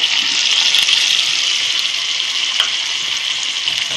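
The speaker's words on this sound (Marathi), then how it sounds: "आता हे आपण भगर टाकून घेऊया। स्वच्छ धुवून ठेवले" Washed barnyard millet (bhagar) hits a hot pan, giving a loud, steady, close sizzle with a wet hiss that holds evenly throughout.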